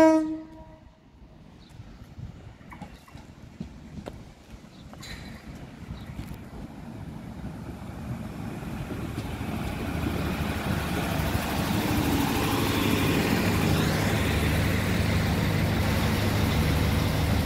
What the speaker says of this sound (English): now approaching as a double 3000 on the 1851 to London, Derek.